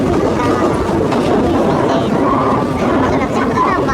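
A packed commuter subway train rolls along its rails with a steady, dense rumble and rattle, a murmur of crowd chatter blended in throughout.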